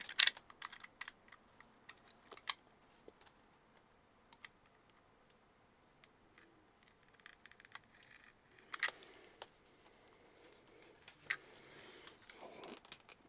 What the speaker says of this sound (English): That bloody cellophane doesn't want to go.